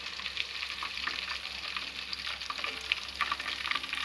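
Garlic sizzles steadily in hot oil in a pan while village-style spicy cauliflower masala rice is cooked, with a dense, continuous crackle of frying and small pops throughout.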